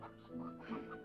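A hen clucks on a farm in a few short, close, fairly soft bursts with no talk over them.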